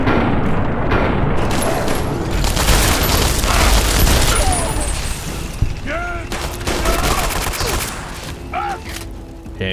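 Gunfire in the game Fallout: TTW, a loud heavy barrage of overlapping shots and booms that stays dense throughout, with a voice talking briefly over it.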